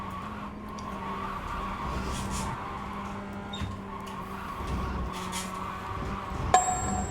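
Race car running off track in the iRacing simulator during an online race; a quiet, steady engine drone with soft tire scrubbing and skidding noises, then a brief sharp impact near the end.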